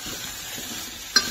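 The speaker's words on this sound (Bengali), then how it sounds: "মোটামুটি 3 থেকে 4 মিনিট আমি এটাকে সব ভালো করে ভেজে নেব।" Grated carrots frying for gajar halwa hiss softly in a pan while being stirred, ending in one brief scrape of the spoon, with no voices.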